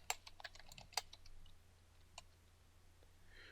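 Keys tapped on a computer keyboard in a quiet room, a quick run of sharp clicks early on, then a few scattered taps and a faint trailing rustle.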